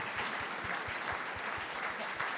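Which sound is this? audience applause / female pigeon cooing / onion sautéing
audience applause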